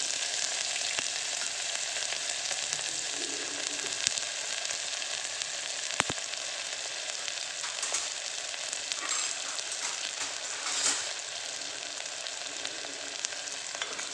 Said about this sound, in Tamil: சோம்பு போட்ட உடனே பொரிஞ்ச உடனே வெங்காயத்தை சேர்த்துக்கிடுவோம்.